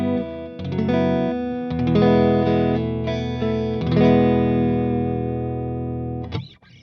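Clean electric guitar chords ring out through a small 5-watt Princeton-style tube amp, sustained and bright, changing a few times before fading with a final quick strum.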